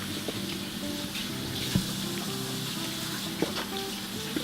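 Golden Delicious apples scooped into a pan with a spatula, a steady sizzle and wet hiss with a few soft scraping knocks against the pan.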